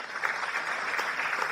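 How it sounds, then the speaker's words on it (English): A short burst of crowd applause at an Indian Sailing League event, steady and moderately loud clapping from many people, alone without speech. "So big round of applause for all of you."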